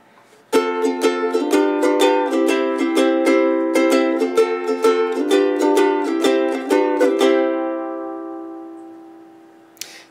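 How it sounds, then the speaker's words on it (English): A soprano pineapple-shaped ukulele with a tattoo design is strummed up close, a steady run of bright chords with sharp attacks that then ring out and fade to silence, with no voices. "This is the Soprano pineapple ukulele,"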